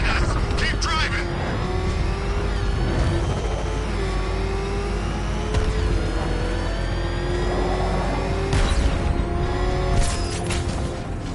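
A car tearing along in a chase in Batman: Arkham Knight, loud continuous engine roar with shifting pitch, occasional bursts and impacts, a voice shouting over it.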